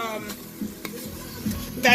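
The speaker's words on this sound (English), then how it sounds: "I'm kind of frying it with the oil" Continuous close sizzle of oil frying in a pan, with a few soft scrapes and taps of a spoon stirring.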